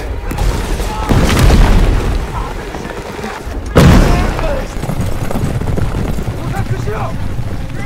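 Two heavy cannon blasts in a film battle scene land a few seconds apart, each a deep thudding blast over a continuous roar of battle noise, with voices mixed in.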